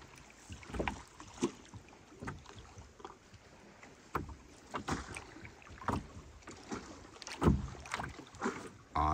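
Water slapping against a canoe hull on Cranberry Lake, irregular hollow knocks and splashes close by with light wind noise in between, no talking.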